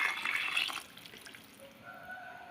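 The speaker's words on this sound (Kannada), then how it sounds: "ನೀರು ಹಾಕ್ಕೊಳ್ತಾ ಇದ್ದೀವಿ" Hot water is poured into a pan of softened, oil-glossed tomatoes cooking for tomato bath. A bright splashing pour lasts under a second, then gives way to quiet trickles and drips.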